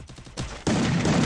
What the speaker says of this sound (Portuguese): Dá um tiro.